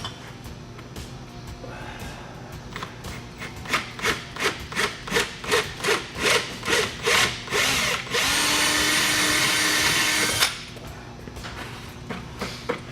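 A power drill bores into a plywood wheel plate for an L'Acoustics SB28 subwoofer, with a run of short rhythmic grinding pulses followed by a steady sustained whine before it stops, close and moderately loud.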